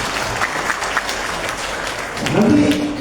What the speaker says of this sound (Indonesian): kita mau berikan tepuk tangan untuk ketua leader Wiki Academy Bapak Fili Mutakin